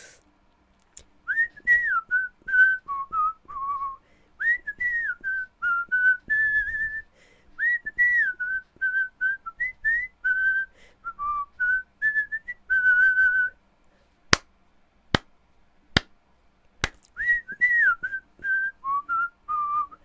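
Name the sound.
person whistling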